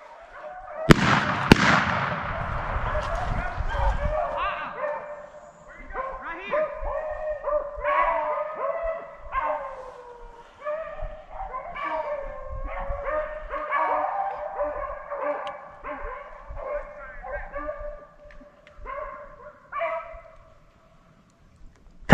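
Hunting dogs barking and yipping during a swamp rabbit hunt in Waterford, Mississippi, a chorus of repeated overlapping barks from several dogs at moderate distance, opening with a couple of sharp loud cracks like gunshots.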